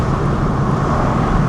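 Loud, steady engine and road roar from a Mini Cooper S cruising in sport mode, a continuous low rumble with no pauses or voices.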